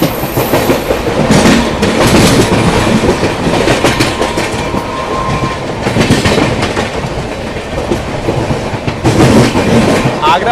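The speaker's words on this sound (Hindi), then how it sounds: "आगरा वाली लाइन से आ रही है मरुधर एक्सप्रेस" Jodhpur–Varanasi Marudhar Express train running on the rails near a junction, a loud, continuous rumble with rhythmic wheel clatter throughout, close by and steady for the whole stretch.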